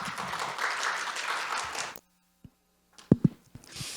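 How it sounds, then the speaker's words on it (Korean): An audience at a university general-education forum applauds to welcome a presenter, the Yeungnam University vice president. Dense clapping fills about two seconds, then stops abruptly into near silence, followed by a few isolated thumps and soft shuffling. "박수로 맞이해 주시기 바랍니다."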